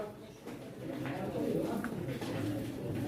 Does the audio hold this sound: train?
no